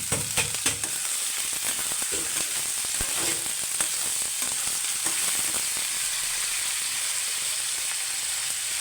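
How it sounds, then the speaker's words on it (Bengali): Onion, chilli and potato fry in hot oil, a loud continuous sizzle close by with scattered sharp crackles and occasional scraping stirs of the spatula. "পেঁয়াজ মরিচ আলু দিয়ে দিল আলু দিয়ে ভালো মতো ভেজে নেবে"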